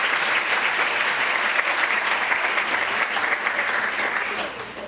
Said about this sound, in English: If we can give another round of applause.